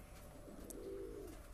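A pair of Saharanpuri pigeons, male and female, gives a soft cooing call that swells briefly in the middle of a short, quiet stretch.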